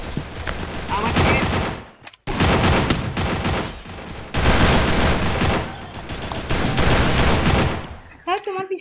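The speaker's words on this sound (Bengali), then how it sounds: "বন্দুক তো মারা শুরু করে দিছি" Counter-Strike gunfire rattles in dense, sustained automatic bursts, loud and close, broken by a couple of brief gaps before tapering off near the end.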